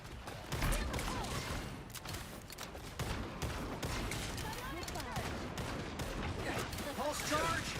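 Pulse charge gunfire in a video game sounds as dense, continuous volleys of blasts and crackling impacts, loud and sustained, with game voices shouting over the barrage.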